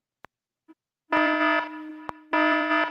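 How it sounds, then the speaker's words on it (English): An alarm goes off in two loud, steady buzzing bursts, each about half a second long, with brief clicks before and between them. "And that alarm is going off."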